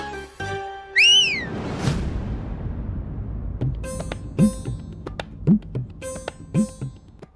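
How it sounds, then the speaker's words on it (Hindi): A person whistles to call someone: a loud rising-and-falling whistle near the start, then a series of shorter sharp whistle bursts at irregular intervals. "वो आपको बुलाना चाहते थे, लेकिन समझ में नहीं आया कि कैसे बुलाए, इसीलिए सीटी बजा दी।"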